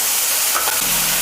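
Masala spices sizzle in hot oil with onion and tomato for a chickpea gravy, a loud, close, steady frying hiss with brief stirring scrapes partway through.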